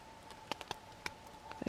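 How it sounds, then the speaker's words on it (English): Heavier drops falling from snow-laden trees onto a winter camping tent fly, scattered soft taps in an irregular patter, close and faint, with a quick cluster near the end. "And then it comes down as the heavier drops dripping."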